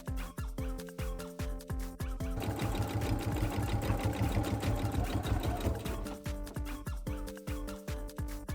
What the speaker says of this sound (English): So now I place these 2 panels onto the back edge of the corset and sew them in place.